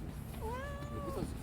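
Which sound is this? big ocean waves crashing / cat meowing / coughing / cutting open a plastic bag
cat meowing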